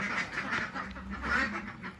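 Laying ducks quacking in a steady, crowded chorus, many overlapping calls close by with no pauses.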